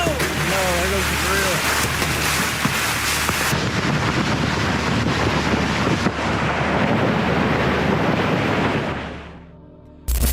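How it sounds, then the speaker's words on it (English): Violent storm wind roars and buffets the microphone in a constant loud rush, briefly easing near the end before surging again. "bracing against the violent gusts"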